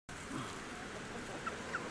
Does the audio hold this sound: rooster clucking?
yes